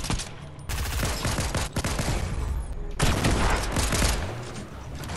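Rapid bursts of gunfire in a shooter video game, loud and repeated in two long volleys with dense cracking shots, while players talk excitedly over the shooting.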